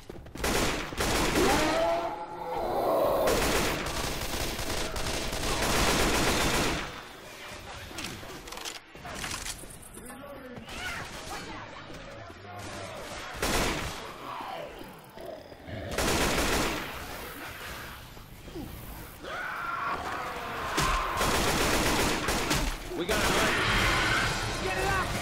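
Sustained gunfire from Left 4 Dead 2 gameplay, dense bursts of automatic weapon fire rattling almost continuously with brief lulls, loud and close throughout, with a voice talking over parts of it.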